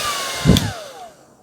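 A hair dryer blows hot air in a short burst, a steady whooshing hum with a brief louder rush in the middle before it fades away.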